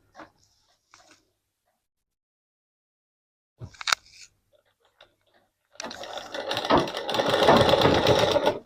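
Sewing machine stitching a 1/4 inch frill during tailoring, starting after a few faint handling taps and a brief clatter, then running steadily and fairly loud for the last few seconds.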